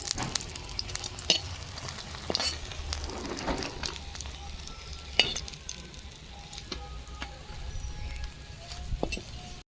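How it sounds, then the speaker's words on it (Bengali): Water lily (shapla) fritters frying in hot oil, a steady soft sizzle broken by scattered sharp pops and crackles, fairly quiet and close, with no voices. "এই যে দেখুন বাকিগুলো আমি ভেজে নিচ্ছি"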